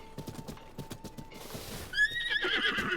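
A horse gallops with rapid, steady hoofbeats in Zelda: Tears of the Kingdom, then slows and lets out a loud, bright whinny near the end.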